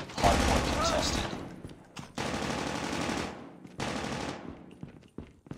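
Automatic gunfire in the mobile game Call of Duty Mobile, heard as three long, loud, rattling bursts separated by short pauses, with sharp shot transients up close.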